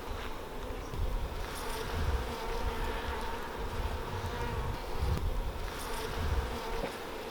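Honey bees, workers and nurse bees, swarm over an open hive frame of brood and capped honey, producing a dense, continuous close-up buzz that swells and dips slightly with passing bees, no talking.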